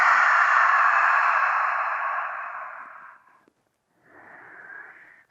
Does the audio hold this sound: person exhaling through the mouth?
yes